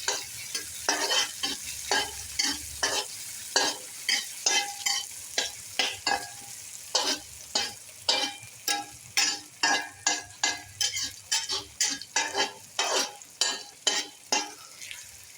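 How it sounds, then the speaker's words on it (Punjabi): Tomatoes and onions fry in a pan while a utensil stirs them, producing repeated close scraping strokes in a quickening rhythm over a soft continuous sizzle, with no voices. "ਟਮਾਟਰ ਨੂੰ ਵੀ ਇਹਦੇ ਨਾਲ ਆਪਾਂ ਚੰਗੀ ਤਰ੍ਹਾਂ ਭੁੰਨ ਲਵਾਂਗੇ"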